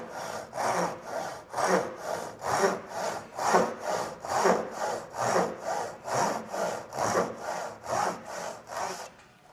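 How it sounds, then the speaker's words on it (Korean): A hand saw cuts wood along a straight line in slow, steady strokes, each push and pull rasping clearly and evenly with a regular rhythm, close by and without any voices. "천천히 톱질을 하시면 되겠습니다"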